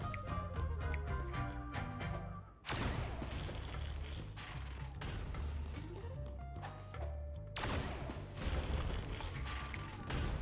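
Loud booming explosions from a video game bazooka fired in a street stage, dense and continuous over a thick music-like bed, with a sharp drop around the third second before another heavy barrage.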